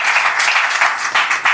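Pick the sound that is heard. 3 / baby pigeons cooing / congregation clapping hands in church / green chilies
congregation clapping hands in church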